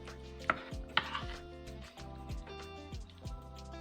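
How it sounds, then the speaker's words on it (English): A spoon pressing roast beef down into a container with kale and carrots, giving several soft thuds and squishy presses over a steady hum, with two sharper clicks near the start. "just press the spoon against the meat like this and just push it down in so you get more in"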